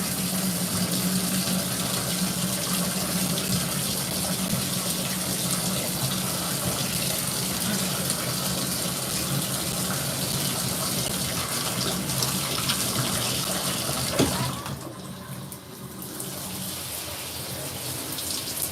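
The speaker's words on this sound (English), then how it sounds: "let's warm up the shower." A shower runs in a steady, loud rush of water for most of the stretch, close by, then briefly drops in intensity near the end before continuing.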